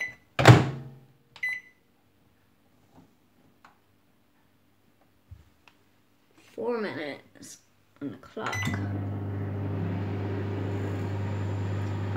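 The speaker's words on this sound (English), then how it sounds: "And then you do it for 4 minutes in the microwave" A microwave oven heating hot and spicy noodles, starting with door clunks and beeps, then a steady low hum near the end, with short voice sounds and faint clicks in between.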